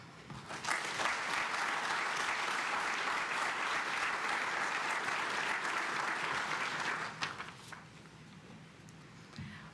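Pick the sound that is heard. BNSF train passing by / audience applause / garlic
audience applause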